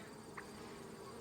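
Bees humming steadily around an open hive in the afternoon, many returning with pollen; a faint, continuous buzz with one brief closer pass.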